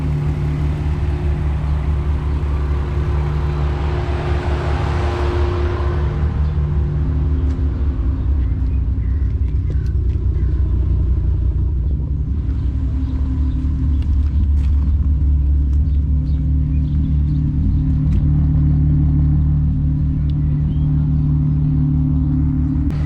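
Volkswagen VR engines, an MK3 VR6, MK4 R32 and MK4 VR5, idle with a deep, steady rumble close by throughout, with a few light clicks and no talking.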